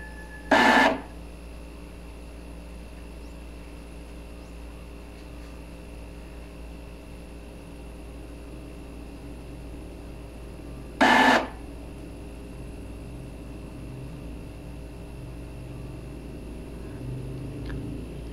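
An Epson L3210 inkjet printer running head cleaning hums steadily for a long stretch, broken by two short, sharp mechanical bursts spaced about ten seconds apart.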